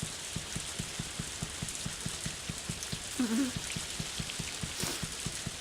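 Rain falls in the farming video game Harvest Moon: A Wonderful Life, a steady soft patter with a regular ticking pulse of drops or footsteps and a brief tonal chirp midway, faint and close.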